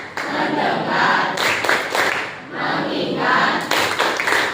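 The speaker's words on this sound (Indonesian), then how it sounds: "Supaya fokus, kita tepuk fokus, tepuk fokus." A group of schoolchildren performs a patterned focus clap in class. Repeated sharp waves of clapping alternate with brief pauses, all blended with the students chanting together.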